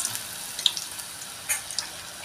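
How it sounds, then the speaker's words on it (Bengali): Flattened lentil fritters (masoor dal piyaji) frying in hot oil in a frying pan, a faint, steady high hiss with a few brief crackling spikes, no talking. "এরকম করে ভেজে নেব"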